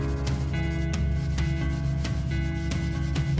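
A guitar neck held in a vise is sanded with sandpaper on a leveling beam, a close, steady rasping rub with regular strokes roughly every half second.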